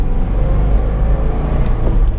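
A manual-transmission car pulls away in first gear, its engine droning low and loud close by, rising gently in a steady, rumbling acceleration with no voices.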